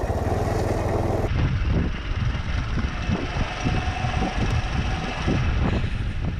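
Honda CT110 postie motorcycle ridden along rutted, sandy dirt roads, its engine droning steadily and loudly close by, with rumbling and wind buffeting throughout.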